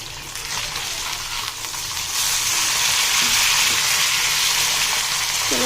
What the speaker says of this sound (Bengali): তো রান্না করতে চাপিলা মাছ দিয়ে টমেটো দিয়ে পেঁয়াজটা আগে কষাই নিলাম।